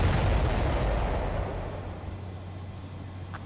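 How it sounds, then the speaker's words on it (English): A large missile explosion hitting supply ships in a video game, a loud broad blast that rumbles and slowly fades over a few seconds, with no talk over it. "That's a confirmed direct hit by the missile."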